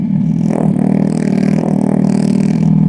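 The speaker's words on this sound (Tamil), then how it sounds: "இது வந்து ஸ்பீக்கர் கிடையாது, இது வந்து சவுண்ட் சிமுலேட்டர்." A steady, buzzing engine-like drone hums close by from the sound simulator of a Revolt RV400 electric motorbike, a synthetic motor tone with a slight rise in pitch, continuous throughout.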